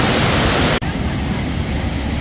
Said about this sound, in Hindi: बहुत खूबसूरत है, बहुत अच्छा वाटर फ्लो है इसका इस वक्त